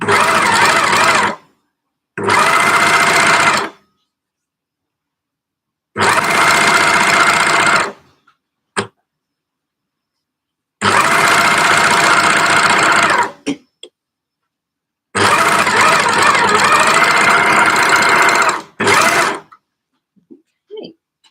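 A domestic sewing machine stitches jersey joggers in five loud, close bursts of rapid whirring, each lasting one to three seconds and separated by silences, with a few faint clicks between runs.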